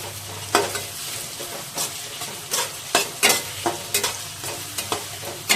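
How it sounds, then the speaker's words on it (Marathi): Onion being stir-fried in a pan for a party batch of veg Hakka noodles, with a steady sizzle broken by repeated scraping strokes of a spatula at an uneven rhythm, close and fairly loud, no voices. "आपण याला थोडं 1 ते 2 मिनिटं परतून घेऊया"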